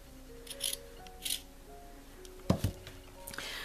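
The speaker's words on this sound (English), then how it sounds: "I'm going to clip all of the inside corners, snip right up close to the stay stitching, but not through it." Scissors snipping the inside corners of monk's cloth near the stay stitching for a hooked rug, a few quiet separate crisp cuts spaced apart, then a louder clunk as the blades close, all close up.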